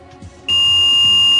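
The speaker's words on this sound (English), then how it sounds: "it beeped at the yellow" An Alzatex TMR017 timer wired to a red-yellow-green warning light sounds a single sharp electronic beep as the light switches to yellow. The tone starts abruptly after a moment of quiet and holds loud and steady to the end.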